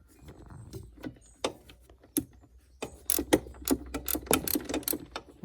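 Ratchet fitted with a 6mm Allen socket loosening a front bolt on a Yamaha Tenere 700 motorcycle pannier rack, giving irregular clicking and clattering mechanical bursts, close and fairly loud, with no talk.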